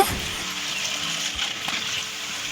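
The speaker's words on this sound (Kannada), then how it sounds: "ನಂತರ ಚಿಪ್ಸ್ ಬಂದಿದೆ ಅಂತ ಹೇಗೆ ಗೊತ್ತಾಗುತ್ತೆ ಅಂದರೆ ಫುಲ್ ಕುದಿಯೋ ಸೌಂಡ್ ಬರುತ್ತೆ" Jackfruit chips fry in hot oil with a full, steady bubbling hiss, close and loud, holding an even sizzle throughout.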